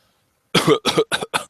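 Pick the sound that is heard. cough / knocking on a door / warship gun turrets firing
cough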